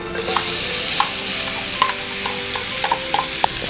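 Onion frying in about 100 grams of melted butter gives a steady close sizzle, with a few soft utensil stirring clicks scattered over the hiss and no talking.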